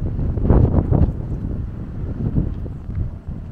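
Strong outdoor wind buffets the microphone in deep, rumbling gusts that swell and ease, loud and steady without other clear sounds.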